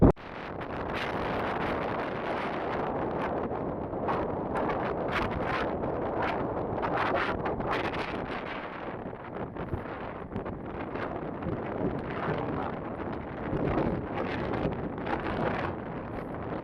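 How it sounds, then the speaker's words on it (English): Strong headwind buffets the microphone while cycling in Mallorca on a windy February day, a loud continuous roaring rush that gusts without letting up from start to finish. "God, brutal headwind the whole way."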